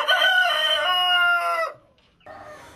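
A rooster on a farm with a flock of chickens crows loudly and close in one long drawn-out call, followed after a brief pause by quieter clucking.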